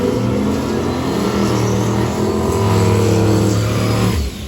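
A drag racing car revs hard at a test and tune session, its loud engine rising through steady harmonic steps for several seconds before dropping off abruptly at the end, close and alone without talk.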